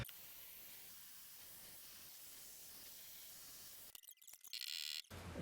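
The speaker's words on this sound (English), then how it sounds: "So I'm just going to go around and heat each of the studs a little bit, just to free up the corrosion or whatever gunk is inside there." Steady, loud torch hiss heating the corroded wheel hub studs on a Porsche 928, a continuous roar that breaks up into short sputtering bursts near the end.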